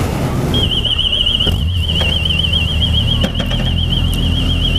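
An alarm sounds inside a shop stocked with motorcycles, generators and lawnmowers: a steady, piercing electronic tone with a slow warble that starts about half a second in and holds loudly to the end over a low hum of the room.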